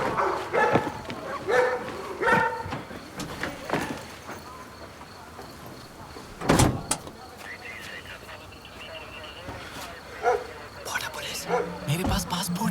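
Several dogs bark and yip in sharp bursts, some close and some farther off, scattered through a tense scene with rustling and movement around them.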